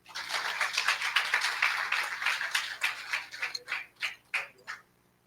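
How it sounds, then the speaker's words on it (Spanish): A church congregation applauds during a Spanish-language sermon, a dense burst of many hands clapping that thins into a few separate, sharper claps before fading out. "Dele un aplauso al Señor."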